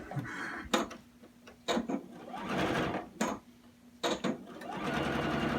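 A sewing machine stitches fabric for a quilt block, running in several short whirring bursts separated by sharp clunks and pauses, close and moderately loud, with faint voices in between.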